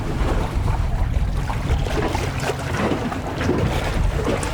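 Boat under way on a single diesel engine at slow speed, a steady low mechanical drone mixed with wind and water rush, continuous and close, no talk.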